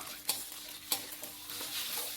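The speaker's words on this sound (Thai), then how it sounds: "ก็เริ่มเจียวไข่ให้เซตตัวให้สุก" Chicken eggs sizzle and crackle in a hot pan, quiet and steady, with a couple of soft scraping stirs.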